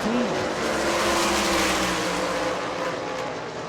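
Race cars roar around the oval at New Smyrna Speedway's World Series, engines loud and continuous, pitch sweeping as the pack runs close together mid-race.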